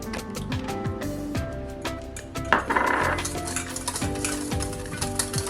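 Steak pieces and onions being stirred together in a pan with sesame oil, a steady sizzle under repeated scraping and clinking of a utensil against the pan, with one louder burst of hissing midway.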